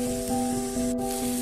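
Onions and curry leaves sauté in hot oil for a mackerel roast, a soft continuous sizzle with a steady low hum running beneath, brief and fairly faint.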